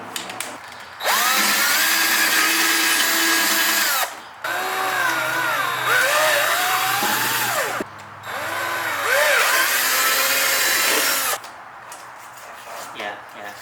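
A power drill bores holes into a car bumper to mount canards on an S2000, three long whining bursts with pitch dips as the bit bites, separated by short pauses.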